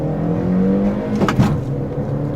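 A Volkswagen Saveiro Cross with a 1.6 engine accelerating in first gear, a steady, loud engine drone whose pitch climbs as it revs, heard from inside the vehicle with no talking.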